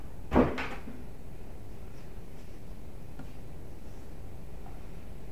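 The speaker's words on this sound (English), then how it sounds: "We shut the door" A door is shut indoors with a single sharp thud early on, followed by quiet room tone and faint small creaks.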